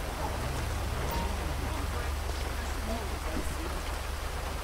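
Rain in the video game GTA 5, a steady soft patter and hiss on surfaces with a low rumble underneath, faint overall and continuous.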